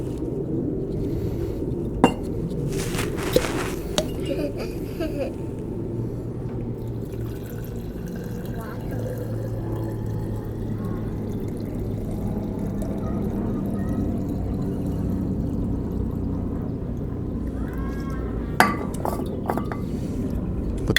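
Berryman B-12 fuel cleaner is poured into a container for a valve soak test, making a continuous liquid trickle with occasional glassy clinks and knocks, close and fairly loud, with no talk.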